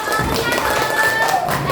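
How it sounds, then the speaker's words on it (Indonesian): Close, loud hand clapping from a classroom-style audience with a crisp, tapping texture, mixed with voices and a faint tonal hum. "tepuk tangan untuk"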